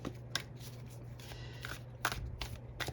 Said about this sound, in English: I have a hard time shuffling this way.